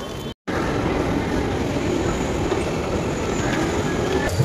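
A metro train near Howrah metro station in Kolkata gives a loud, steady rumble of wheels and carriages that fills the whole stretch after a brief silent gap at the start.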